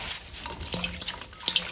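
Dirty water tipped out of a cooking pot, splashing and trickling in small uneven bursts and drips at close range, fairly quiet overall, with no one talking.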